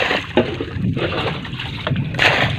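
Water being bailed out of the flooded engine compartment of a fishing boat, with repeated scooping splashes and sloshing pours close by, steady and fairly loud over the boat's background noise.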